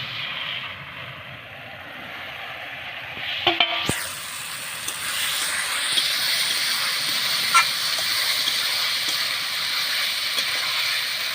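Pre-fried jackfruit and goat leg sizzling in a pan for a jackfruit curry, a steady close hiss that swells after a brief clatter partway through.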